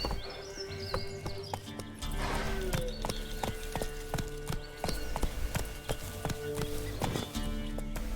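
Roach the horse gallops in The Witcher 3, a steady rapid clip-clop of hooves over game music and ambience, close and continuous, with a brief vocal cry partway through.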